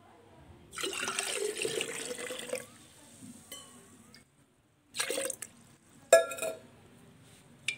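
Water poured into a glass of strained fennel sharbat with sugar, a splashy liquid pour in short bursts with pauses between, close and moderately loud, no talk.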